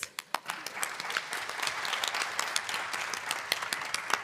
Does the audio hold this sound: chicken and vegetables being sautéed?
no